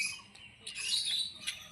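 Birds call near a tiled rooftop where pigeons gather, giving brief high chirps and a sustained bright twittering over a quiet background, fairly close and alone.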